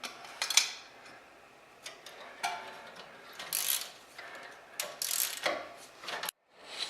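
A ratchet clicks in uneven bursts while loosening the ball joint nut on a 2015–2018 Jeep Cherokee, with pauses between the bursts and faint metallic handling noises, quiet and close, without any talking.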